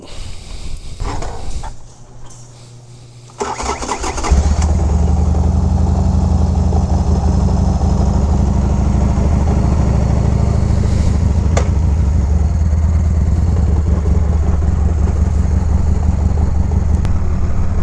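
A motorcycle fires up after a few cranking bursts, then settles into a loud, steady idle with a deep throbbing rumble that holds close and constant.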